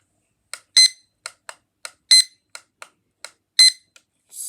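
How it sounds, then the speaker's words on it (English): A new digital alarm clock rings in short, sharp electronic beeps, close and moderately loud, with longer bursts recurring about every 1.4 seconds among quicker single chirps, in an otherwise quiet room. "so this alarm clock is really good"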